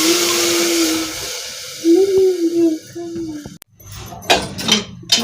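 Water poured into a hot pressure cooker pot while cooking a plain dish of spiced food, giving a sharp steamy hiss and sizzle midway, with clattering of the pot and someone speaking before and around it.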